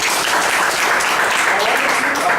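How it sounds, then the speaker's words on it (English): Loud, dense applause from a large audience after a president's address at an evaluation session, continuous, even clapping filling the space without pause. "I enjoyed the president's address, and let's give him a big round of applause"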